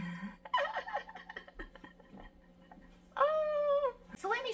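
Voices imitate a cat, singing drawn-out meows in a playful pitch, several in a row close up, with gaps of quieter sound between.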